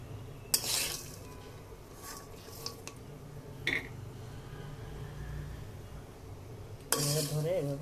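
Peanuts being dry-roasted in a pan, with scattered metallic clinks and scrapes of a utensil against the pan separated by quiet stretches of low background hum.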